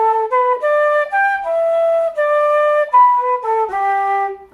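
A solo flute plays a flowing phrase of a traditional tune, clear and close, with smooth stepwise notes and a few held tones and no talking.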